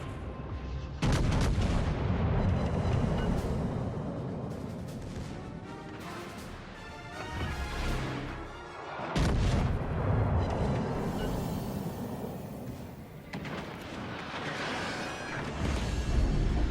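Battleship guns firing in World of Warships Legends, a Tier 4 HMS Indefatigable trading fire, with heavy booming blasts and rolling rumble that swell and fade in long loud waves.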